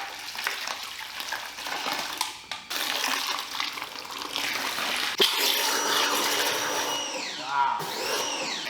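Dirty water mixed with red clay is poured out of a cup onto a tilted car surface, a steady rushing splash lasting several seconds, with a few brief breaks and a gurgling finish.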